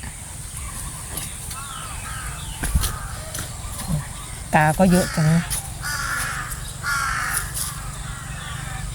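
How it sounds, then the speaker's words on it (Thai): Crows caw in a quick run of harsh, ringing calls partway through, over a steady outdoor hiss in a vegetable garden, with a person talking before and after. "เสียงนกเสียงกาน่าจะเป็นแบบนี้เนาะ"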